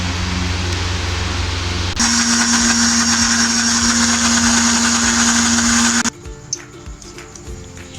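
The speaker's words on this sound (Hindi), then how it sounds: "साथ मेरे पास जो दही मैंने लिया था वो इसमें डाल के दोनों चीज़ों को मैं ग्राइंड कर लेती हूँ।" A blender jug grinds fried onion and yogurt with a loud, close motor whir that changes pitch and grows harsher after two seconds, then cuts off abruptly, leaving faint clatter.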